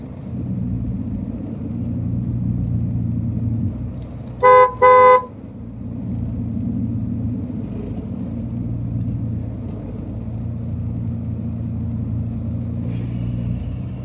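Heavy traffic crawls along the steep, dangerous Ajanta ghat road in low gear, a steady low engine rumble broken near the middle by two short, loud vehicle horn blasts.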